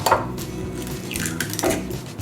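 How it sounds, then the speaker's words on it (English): Eggs being whisked with a fork in a bowl for a Victoria sponge batter, with light clinks and scraping taps of metal against the bowl in a short, irregular burst, close up and without talk. "I'm just going to crack them into this bowl and give them a little whisk"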